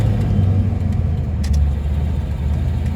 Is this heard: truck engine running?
yes